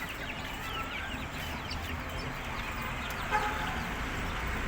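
Chickens in a home coop cluck and chatter softly in the background, faint and continuous, with no one talking.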